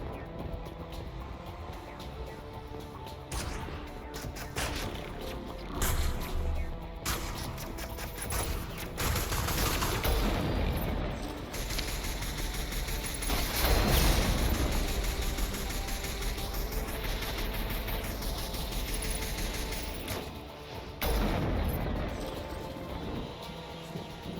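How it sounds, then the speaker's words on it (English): A large mounted gun in the Mass Effect game on Virmire fires repeated heavy blasts in rapid bursts, punctuated by crashes and impacts over a dense battle soundscape, with no voices. "There must be a way to shut that gun down."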